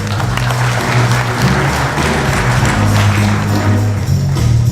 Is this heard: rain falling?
no